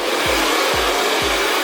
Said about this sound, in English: I'm always following my brush with the blow dryer